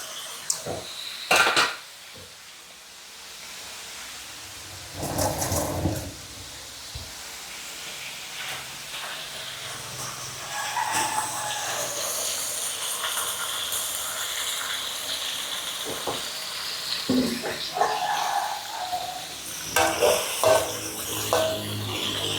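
Sun-dried pork being stir-fried in a pan, with a spatula clattering and scraping against the metal in uneven bursts over a light, steady sizzle, close and fairly loud, with no talking.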